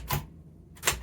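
Two quick bursts of mechanical clatter from a typewriter, spaced apart by a brief quiet gap, close and fairly loud.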